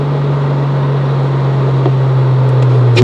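A Porsche Cayman GT3 with a PDK dual-clutch gearbox cruises under light load, giving a steady, close engine drone with a constant low hum and no voices.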